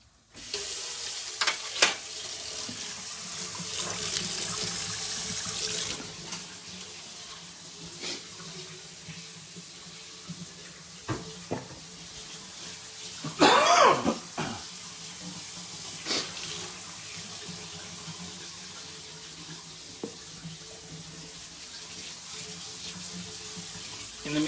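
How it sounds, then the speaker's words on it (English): Kitchen sink tap running as a whisk is rinsed off, a soft steady water hiss with occasional clinks and splashes, one louder burst midway, fairly faint throughout. "Go ahead and put the whisk in the sink. Rinse it off."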